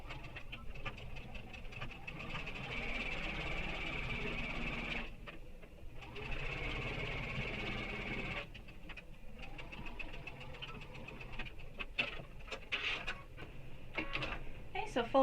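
A sewing machine stitches along the front panel seam of a backpack in a steady, fast mechanical whir, stopping briefly twice and then resuming in shorter bursts near the end.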